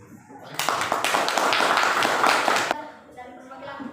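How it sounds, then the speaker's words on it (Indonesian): Applause from a classroom audience for a student group that has just presented its discussion results, a dense burst of clapping lasting about two seconds before fading into quieter room sound. "Mari kita memberikan aplaus kepada kelompok 1 yang sudah menyampaikan hasil"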